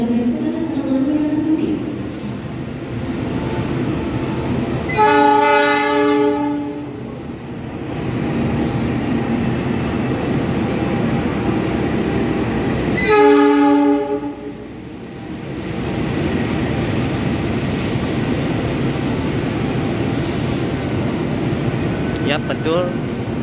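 A Kamandaka passenger train running from Cilacap to Semarang rumbles past steadily, with two loud horn blasts ringing out partway through and a voice talking over the passing.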